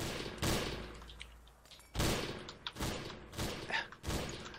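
Gunfire in the multiplayer game Trouble in Terrorist Town, several loud separate bursts of shots spaced a second or so apart with shorter cracks between them, close and punchy.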